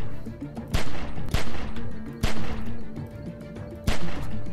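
Several loud, sharp gunshots ring out in The Walking Dead: 400 Days video game, spaced irregularly over a steady droning game background, with no one talking.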